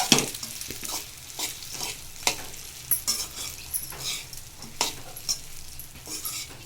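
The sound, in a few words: stirring potato and peanut powder into sabudana khichdi in pan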